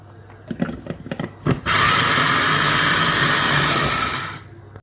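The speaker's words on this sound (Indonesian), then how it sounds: "Dan akan saya haluskan lagi dengan blender ya." An electric blender grinds coarse pepper with water: a few soft knocks come first, then the motor kicks in with a loud, steady whirring roar for about three seconds before winding down.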